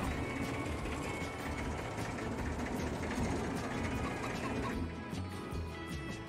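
Tractor engine idling in the Farming Simulator 22 game, a steady mechanical rumble with a ratcheting, gear-like clatter that holds at an even loudness throughout, with no talking.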